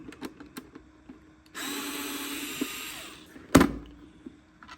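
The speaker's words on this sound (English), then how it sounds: "I see 1, 2, 3 screws on the bottom. So let's take these out." Power screwdriver backing screws out of the underside of a Bostitch stapler, a steady whirring run of about two seconds framed by small clicks and handling taps, ending in a sharp knock as a part is set down.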